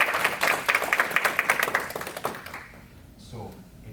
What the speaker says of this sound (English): Give it a round of applause for Dr.